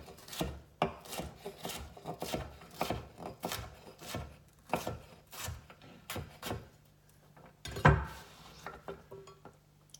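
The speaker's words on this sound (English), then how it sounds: "if you want to cut it into a dice, turn it all around, and it's the same thing" A kitchen knife dices a de-seeded pepper on a cutting board with a rapid series of soft, uneven chops, mixed with light scraping and a sharper knock near the end, fairly close and quiet, no speech.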